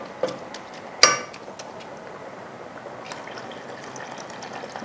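Water pouring into a pot for Lucknowi mutton pulao gives a soft, steady trickle and splash at low level, with a sharp clink of a cup or utensil against the pot near the start and small scattered clatters, with no talk.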